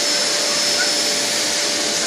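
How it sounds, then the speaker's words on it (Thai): Vacuum cleaner running steadily close by, a loud continuous whooshing roar with a faint tonal whine and no breaks. "ดูดฝุ่นเลยลูกดูดฝุ่นช่วยแม่เร็ว"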